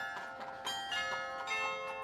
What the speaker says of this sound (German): Die Glocken des Salzburger Glockenspiels.